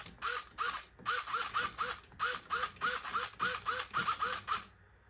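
A steering servo on an RC car built as a Hoonigan Hoonicorn Mustang buzzes back and forth in about a dozen short, close whirring sweeps with a rhythmic rise and fall, and then stops.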